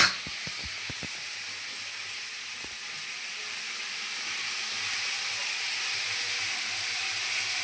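Onion and tomato roast in a pan, giving off a steady soft sizzle and hiss, with a few light taps at the start, all fairly faint and with no talk.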